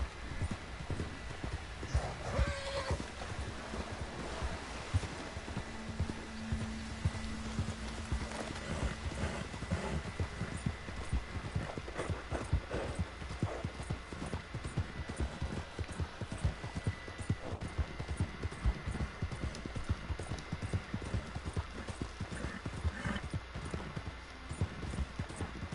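Horse hooves clip-clop at a steady riding gait in Red Dead Redemption 2, a continuous rhythmic thudding that runs the whole stretch at moderate loudness, with a faint whinny and low ambient hum underneath.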